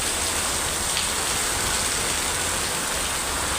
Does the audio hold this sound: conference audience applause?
no